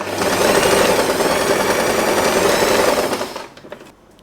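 Sewing machine stitching a straight seam in fabric for a pearl-trimmed bow, a steady close whirring run of about three seconds that stops abruptly, followed by a few faint handling clicks.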